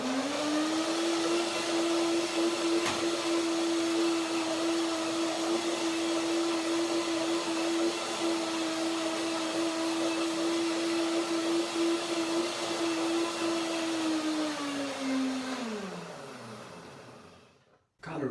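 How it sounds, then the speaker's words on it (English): A blender whirs steadily while mixing an avocado salad dressing, a sustained high motor whine that holds for about fifteen seconds, then winds down and stops. "Blender dance."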